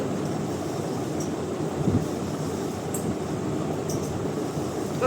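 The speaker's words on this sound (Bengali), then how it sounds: "ফ্যান চলছে" An electric fan runs in a room with a steady, even whooshing drone, moderately loud throughout, with faint light ticks above it and no voices.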